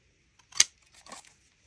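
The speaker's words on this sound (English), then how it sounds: "Get out the big snips." Big tin snips make two quick cuts through sheet metal for a bench vise soft jaw, one sharp snip followed by a softer second one, close and alone.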